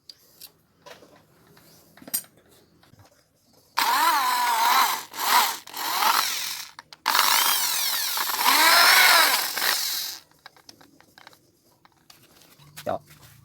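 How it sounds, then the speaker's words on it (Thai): A power drill bores holes in a handmade fishing net tool, whining loudly in two long bursts broken by short pauses, with quieter handling clicks and knocks before and after. "แล้วตอนนี้เราก็ได้เจาะรูแล้วนะครับ"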